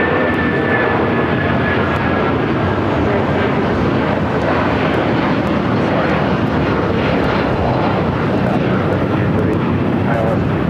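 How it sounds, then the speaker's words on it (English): An Air France Boeing 777-300ER at LAX, a loud, continuous jet roar close by that holds steady from start to end, with a voice talking over it. "That was the Air France heading back to Paris in that"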